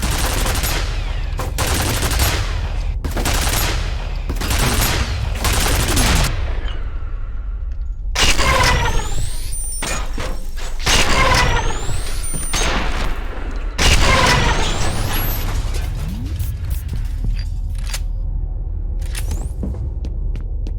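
Automated turrets in F.E.A.R. fire in long bursts of rapid gunfire, loud and close, broken by short pauses and scattered with ricochets and impacts.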